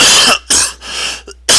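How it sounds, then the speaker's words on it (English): A person coughs sharply into a close microphone, two or three loud harsh bursts separated by brief pauses, with no other sound around them. "didn't mean to cough in your ear"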